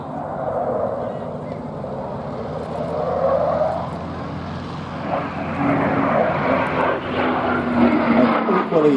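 A fighter jet with two Eurojet 200 engines in reheat roars past at an air show, a broad, loud jet rumble that swells and holds, with a commentator talking over it.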